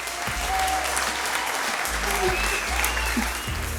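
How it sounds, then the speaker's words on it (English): A dense burst of applause, steady and fairly loud for a few seconds, accompanying a makeup brush demonstration, with a low hum underneath. "This brush deserves a round of applause."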